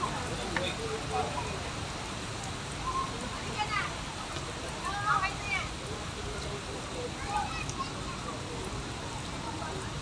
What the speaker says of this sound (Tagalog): Lakas na ng ulan po.